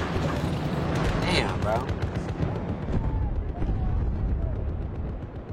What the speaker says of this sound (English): Who's shooting at me? Oh, it's a tank, of course.